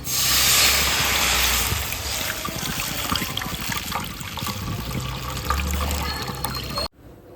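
Rice water strained and poured into a deep pan while making beetroot halva: a close, continuous stream of liquid splashing and trickling that runs steadily and then cuts off abruptly at the end.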